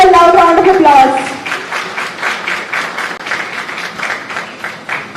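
An audience at an honoring ceremony during a law lecture breaks into sustained applause, with dense clapping that holds steady for several seconds after a brief voice at the start.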